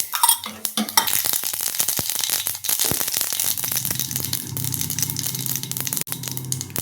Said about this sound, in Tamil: கடுகு வெடிக்குது.